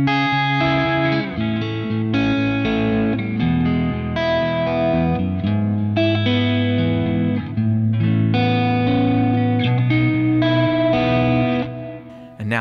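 Guitar chords ring through a Kemper profiler with an always-on sweetening effect, lush and chorused with some grit, strummed steadily and sustained, close and upfront with no talking.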